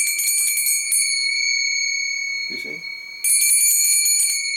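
Kartal hand cymbals struck so they ring like a bell, a bright sustained metallic tone with steady overtones, fading briefly as a voice speaks and then struck again loudly near the end.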